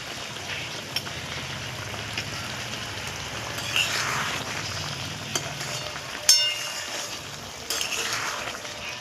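Taro stems with shrimp frying in raw oil give a steady, close sizzle and crackle that runs throughout, broken by a few brief stirring knocks and scrapes.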